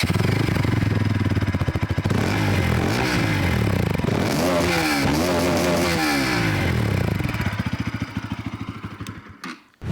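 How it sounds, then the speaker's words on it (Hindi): A Bajaj Pulsar NS 200 motorcycle revs close up, the exhaust note climbing and falling through several throttle blips over a steady idle before it cuts off abruptly at the end. "एग्जॉस्ट नोट भी सुना दो।"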